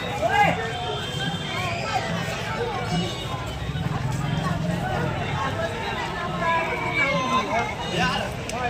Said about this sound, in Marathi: गर्दी भरपूर आहे बघा